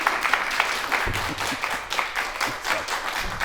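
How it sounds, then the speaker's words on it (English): A modest studio audience claps at a talk-show taping, a light, fairly steady patter of hands at moderate distance, not very loud. "you can go ahead and clap,"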